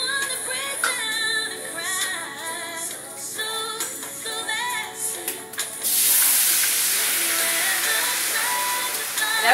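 Pinot white wine hits a hot pan, bursting into a loud, steady sizzle and hiss that starts abruptly partway through and holds to the end, after quieter kitchen sounds.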